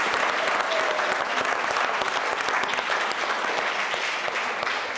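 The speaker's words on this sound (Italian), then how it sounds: "un bel applauso a Eros." Sustained applause fills a TV studio during a sports broadcast, a dense, loud clapping that stays even for the whole stretch with no voices over it.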